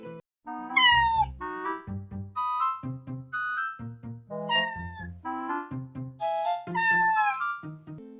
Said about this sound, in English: a special message from Lucky, the like and comment kitty.